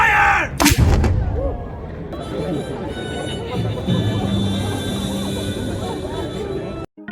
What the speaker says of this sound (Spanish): disparan un cañón solo una vez